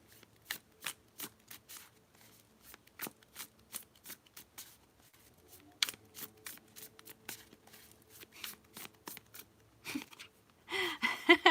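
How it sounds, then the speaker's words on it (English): A deck of playing cards is shuffled by hand, giving a rapid series of close, crisp riffles and taps in irregular bursts, ending with a louder rustling flurry. "Molly, let me give these a good extra shuffle."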